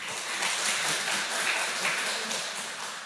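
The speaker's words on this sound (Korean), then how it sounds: "우리 생일을 또한 생신을 맞이한 분들을 위하여 함께 박수를 치도록 하겠습니다" A church congregation clapping together for birthdays, steady and dense, with a faint murmur of voices under the applause.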